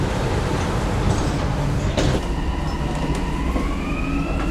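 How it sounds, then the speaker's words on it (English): Dubai Metro train doors sliding shut, a brief clunk and whir over the steady rumble of the carriage, followed by a rising electric motor whine as the train begins moving. "Doors closing."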